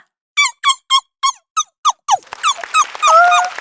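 A human voice imitates a puppy with a run of about seven high, evenly spaced yelps and squeaks, close and loud, followed by a denser stretch of whimpering squeals with a sustained whine near the end.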